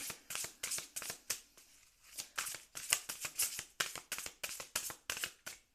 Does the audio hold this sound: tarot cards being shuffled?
yes